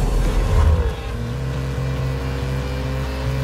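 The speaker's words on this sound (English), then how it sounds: "With the variable valve active exhaust system enhancing performance capability and delivering SVR's signature soundtrack." Jaguar F-Pace SVR engine with its variable valve active exhaust, a loud, close, steady droning growl that surges at first, then settles into a smooth, even tone with a slight dip in pitch.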